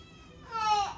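A cat lets out a single short, rising meow near the end, fairly close and clear over a quiet background.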